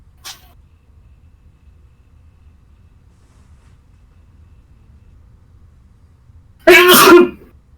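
A person sneezes once, a loud, sharp burst close by after several seconds of near silence.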